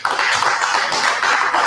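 Audience applause at a business event, a short dense burst of many hands clapping that fills the space evenly from start to finish, with no voices over it.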